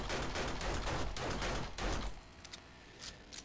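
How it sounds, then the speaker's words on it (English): Rapid bursts of gunfire ring out as zombies are shot in the 7 Days to Die video game, Alpha 17.1 zombie range, a dense fusillade of close shots for two seconds, then a few sparser pops. "I'm just going to keep shooting you"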